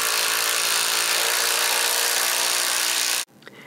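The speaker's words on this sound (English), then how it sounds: "I unscrew what I just did, place everything correctly, screw it again until it holds together, then I begin to screw the other side." A power screwdriver drives screws into a wooden chaise longue frame, one loud continuous whirring run lasting about three seconds before cutting off abruptly, followed by faint workshop handling noise.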